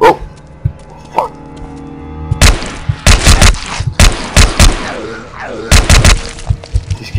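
Gunfire and barking dogs from the zombie game DeadEpidemic: a dog barks near the start, then dense volleys of sharp, loud gunshots crack out in irregular bursts, with more barking between them.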